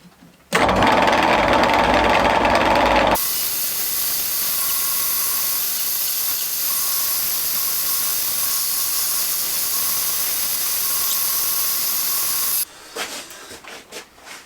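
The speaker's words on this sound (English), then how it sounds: "It seems to cut through this oak quite a lot easier than the HSS ball gouge that I've got there." A wood lathe turns an oak bowl while a tipped tool cuts into it, giving a loud, steady hissing scrape that holds for about nine seconds after a brief burst of louder motor noise, then trails off into a few scattered knocks.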